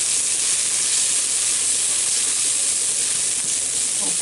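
Onions browning in a pan sizzle and hiss continuously, a loud, even, close frying noise that stays steady throughout with no talking.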